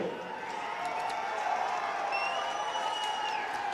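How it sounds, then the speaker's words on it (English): A baseball crowd at the NYPD vs FDNY 2019 charity game gives a distant, diffuse round of applause and murmuring cheers, steady and moderately faint in an open stadium. "Big round of applause for Brian Mitchell."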